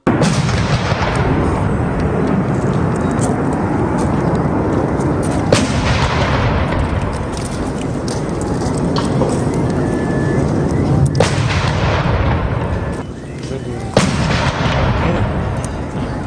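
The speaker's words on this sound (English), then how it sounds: "21-gun salute were done in his honor." Artillery guns fire a 21-gun salute at an outdoor state ceremony, with heavy booms rolling over a loud, dense rumble of crowd and outdoor noise, and sharp reports standing out at intervals.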